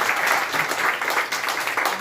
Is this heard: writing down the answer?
no